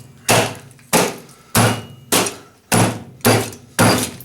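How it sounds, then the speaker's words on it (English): Hammer striking a CRT television being broken for scrap: seven heavy, evenly spaced whacks, each a loud thud with a short clattering decay, close up with no talking. "you find yourself a hammer like this one, and you just give it a couple good whacks."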